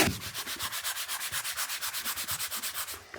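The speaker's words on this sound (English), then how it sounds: "Do you want me to attempt a sanding?" Rhythmic rubbing of a 220-grit foam sanding pad across a surface, quick even back-and-forth strokes, close and steady.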